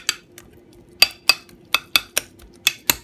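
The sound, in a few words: spoon mashing milk-soaked bread in a bowl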